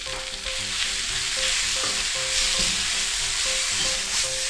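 Noodles with sauce stir-fry loudly in a hot pan, a steady close sizzle with faint scraping from stirring, running the whole time with no talk.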